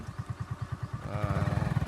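A motorcycle riding ahead on a narrow village path, its engine putting out a rapid, even low thumping that swells louder toward the end, fairly faint and heard alone.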